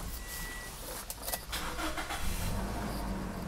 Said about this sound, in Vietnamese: Em đề máy thử cho anh chị nha